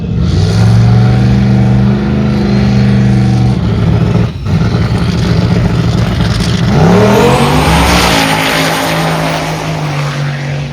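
A turbo LS drag car launches off the line at a drag strip, its loud engine roaring and revving hard, a brief dip mid-run, then climbing again with rising turbo whine as it pulls away.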